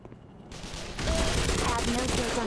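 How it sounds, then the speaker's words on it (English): Shotgun fire in the video game Black Mesa: a burst of loud, dense gunfire erupts about a second in and keeps rattling close and heavy to the end, with quieter game noise before it. "Oh, God, shotgun not good for them."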